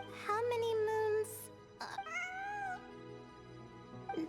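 A video game cat gives two clear, drawn-out meows a moment apart, close and alone, with a short faint cry at the end.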